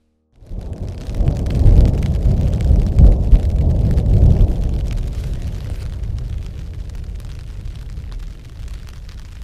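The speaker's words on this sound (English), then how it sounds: "This is my first rainstorm in the hammock." A heavy rainstorm with rolling thunder over a backpacking hammock tarp in the Uinta mountains, a loud, close rumble that swells after a sudden start and then settles into steady pattering rain.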